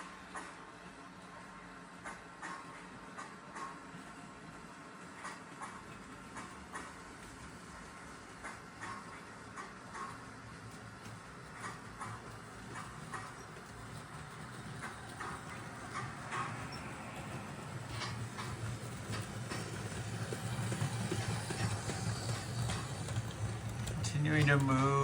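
A motorized LEGO Crocodile locomotive runs laps on its track, giving a steady faint clicking rumble that grows louder toward the end as it draws near. Background speech is present.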